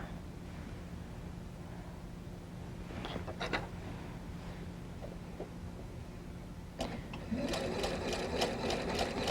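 A home sewing machine stitching fabric onto an anchor cloth for a chicken pin cushion, starting with a few scattered clicks and handling sounds, then a steady close whirring run of stitches toward the end.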